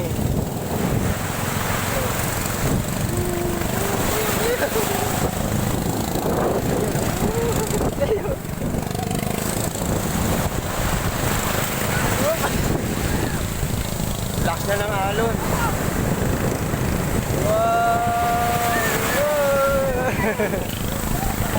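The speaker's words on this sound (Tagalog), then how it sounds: "Lakas ng alon." Strong ocean waves at a Zambales beach make a steady, loud broadband roar, with wind buffeting the microphone throughout and people talking and exclaiming over the surf.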